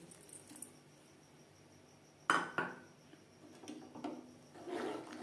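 Washed Gobindobhog rice tipped into a pot for nolen gur payesh, with one sharp clatter followed by a few softer knocks and rustles, quiet and close.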